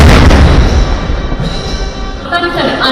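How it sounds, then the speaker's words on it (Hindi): A 21-gun artillery salute fired at India's 73rd Republic Day ceremony opens with a loud, broadband blast, then a rumbling, echoing decay that continues throughout, with a fainter crack near the end. "सेना ने अपने सुप्रीम कमांडर को 21 तोपों की सलामी दी।"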